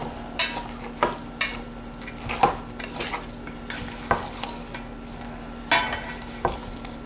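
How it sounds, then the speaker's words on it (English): Cornbread dressing being stirred with chicken broth in a pot, with soft wet scraping and sharp clinks of a spoon against the rim coming in irregular strokes, close and fairly quiet. "I'm gonna stir it all up and then add more."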